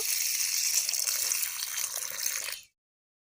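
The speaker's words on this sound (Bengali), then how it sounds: "আলুগুলো কেটে নিয়েছি এবার পরিষ্কার করে ধুয়ে নেব" Splashing, running water close by for a few seconds as cut potatoes are rinsed, stopping abruptly.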